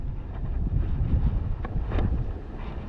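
Steady low wind buffeting the microphone, a constant rumbling roar with a few gusty swells, no voices.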